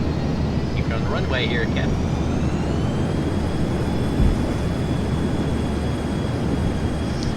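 Boeing 737-200 thrust reversers roaring after touchdown in the FSX flight simulator, a loud, steady broadband rush that fills the whole stretch, with a short spoken line near the start.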